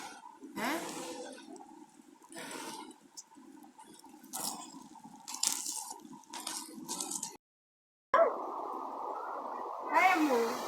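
Someone washes their face with water and soap at close range, making repeated splashing and squishing bursts with a short running-water gush near the end, while a person talks throughout.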